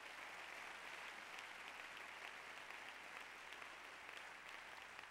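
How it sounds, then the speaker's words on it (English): Congregation clapping hands in a church during a sermon, a sustained, even patter of many hands heard somewhat distant and soft, steady throughout with no voices breaking through. "Give the Lord a hand clap right now."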